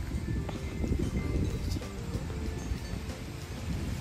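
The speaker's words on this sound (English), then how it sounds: "Sorry if you guys hear wind. It's kind of windy outside today." Steady gusty wind noise buffets the microphone throughout, a rough broadband rumble with faint rustling, no clear voices.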